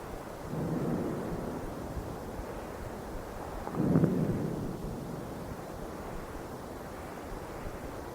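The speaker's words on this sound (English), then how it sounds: "Thunder and violence." Thunder rumbles from a distance during a summer 1986 walk between Clermont and Aumont-Aubrac, with low swells near the start and a stronger roll around the middle, heard over steady wind noise.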